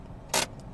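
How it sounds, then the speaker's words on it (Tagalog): A single short, rasping mechanical ratchet of a car handbrake being pulled with the car in neutral, loud against a quiet interior hum, followed by a faint click. "Yun ang tunog ng handbrake."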